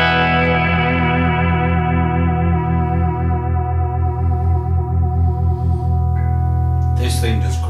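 A sustained electric guitar chord on the bridge pickup through a Digitech Bad Monkey tube overdrive pedal rings out and slowly decays, thick and saturated, followed by a brief voice at the end.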